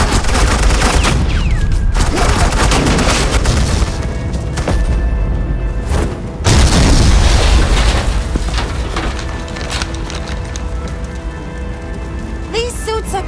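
Suppressing gunfire from Agent Quinn in Batman: The Enemy Within: a dense, continuous rattle of rapid shots and booms with a brief lull midway, loud and close, with voices mixed in.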